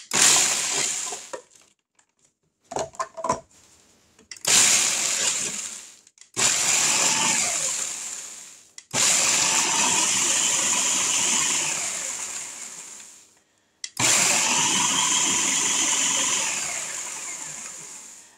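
A blender pulses Oreo cookies into crumbs in several loud bursts, each a few seconds long, with rattling, clinking starts and short pauses between them.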